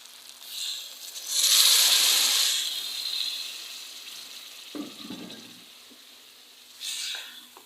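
Water poured onto browned meat for arvi gosht, a loud rush of sizzling and hissing that slowly fades, followed by some clinking and a second shorter burst.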